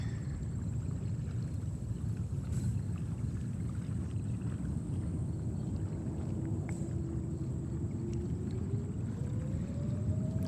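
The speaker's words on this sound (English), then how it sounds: "And Etihad Dreamliner next takeoff." An Etihad Dreamliner jet taking off at JFK Airport gives a heavy, continuous low roar heard from a distance, with a faint tone slowly rising near the end and some wind buffeting.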